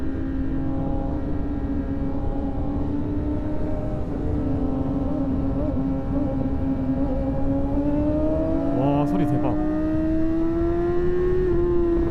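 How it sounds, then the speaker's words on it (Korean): A Ferrari sports car engine drones steadily as it passes nearby, its pitch holding and then rising toward the end, with a brief higher whine mixed in. "와 페라리"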